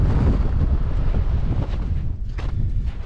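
Strong wintry wind gusts buffet the microphone on top of Hedgehope Hill in the Cheviots, a loud, low, continuous roar that swells and eases slightly without any talking.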